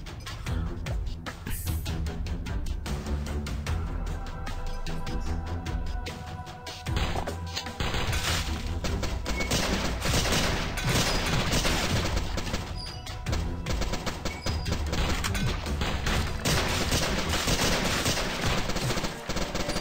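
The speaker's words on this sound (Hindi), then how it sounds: "अरे मारना रे, क्या गोली चला रहा है?" Gunfire in the Sift Heads Reborn video game: dense, loud rapid bursts and crashing impacts firing almost continuously for about twenty seconds with game effects, no talk.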